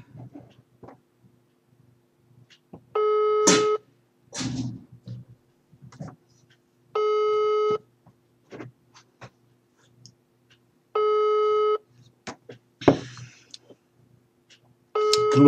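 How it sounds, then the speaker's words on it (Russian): Telephone ringback tone on an unanswered call, three long steady electronic rings recurring about every four seconds, moderately loud, with light tapping and brief room noise between them. "Я же не могу дозвониться и все. Вот звоню."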